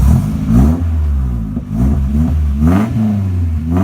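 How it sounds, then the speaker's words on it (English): A 1989 Nissan 240SX drift car with a new exhaust, revved in a shop: a loud, close engine climbing and falling through several throttle blips, with a deep rumbling idle between revs. "we'll rev it up a little bit."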